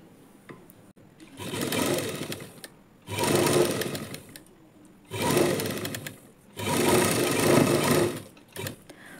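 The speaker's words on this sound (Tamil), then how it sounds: "திருப்பினதுக்கப்புறம் நெக்லைனில் ஒரு தையல் போட்டுருங்க." A sewing machine runs a line of stitching along the lining at a blouse neckline in four steady, whirring bursts of a few seconds each, separated by brief quiet pauses, close and clear.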